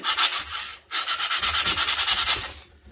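Sanding strokes smooth down a commercial fish mount body, a steady rhythmic rubbing with a brief pause near the start, close and fairly loud with no talking.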